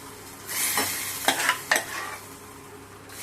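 Amaranth greens sizzle softly in hot tempering oil, broken by a few sharp bursts of stirring and clatter, then settle back to a gentle fry.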